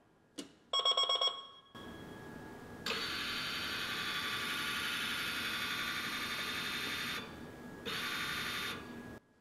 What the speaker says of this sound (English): you should be able to hear the encoder motor turn once I turn this power switch on.